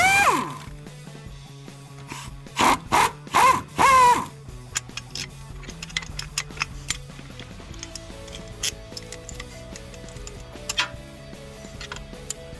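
An impact wrench rattles in several short, loud bursts on the driveshaft bolts of a Jeep Wrangler JK, followed by lighter metallic ticks and clicks of a socket and extensions at close range.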